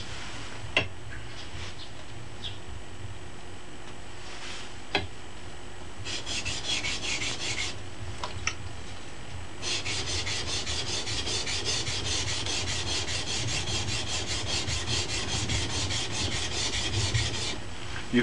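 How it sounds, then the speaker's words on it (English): A sword blade is polished on a sharpening stone with a long, continuous close-up rasping rub that turns brighter and more rhythmic partway through, with a few sharp ticks of the blade shifting. "the way you actually polish the blade on the stone"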